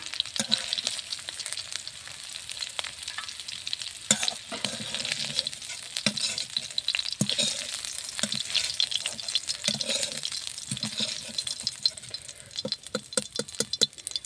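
Steady hot-oil frying of fish fills the whole stretch, a dense bubbling sizzle with occasional sharper crackles and spits, close up and fairly loud.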